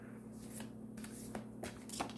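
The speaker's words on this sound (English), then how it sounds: "Do you mind if I shuffle while I get this message?" Tarot cards shuffled by hand in a few quick riffling bursts, close and fairly quiet, with no talk over them.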